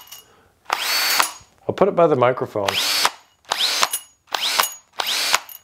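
Festool T18+3 cordless drill spinning in short repeated bursts, each run carrying a small loose metal piece rattling on the chuck, close and loud, with a brief stretch of nearby talk between bursts.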